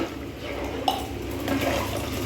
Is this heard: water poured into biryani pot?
yes